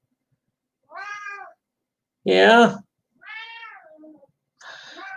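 A male house cat meows several times, drawn-out tonal calls separated by pauses with one louder, higher cry in the middle, close to the microphone; a person says a single brief word.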